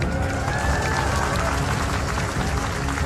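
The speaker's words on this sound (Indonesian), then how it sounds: "Tepuk tangan semuanya, keren." A crowd of event participants applauding and cheering together at a public gathering, a dense, steady wash of clapping that holds loud and unbroken for the whole stretch.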